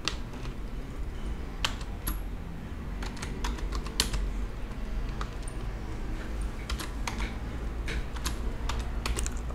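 Steady run of computer keyboard keystrokes, irregular clicks and short bursts of typing close by, continuing for the whole stretch with no one talking.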